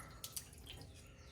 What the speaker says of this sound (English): Now, I'm gonna go ahead and rinse this. A little bit of water.